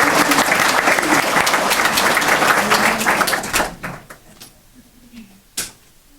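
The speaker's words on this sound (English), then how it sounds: "So a big round of applause for them" Audience applause at a talk on healthy brain aging, loud and dense for about three and a half seconds, then tapering into a few scattered claps and a final lone clap.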